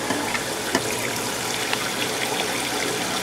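Hot water pours steadily from the drain of an external HTC 8030 water heater, a continuous loud splashing rush close by, with no one talking.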